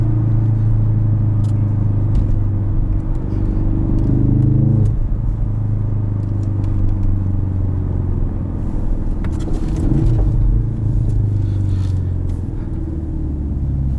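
A 2016 Ford Focus RS engine rumbles steadily with a deep, throaty exhaust tone, rising and easing through revs as the car drives on.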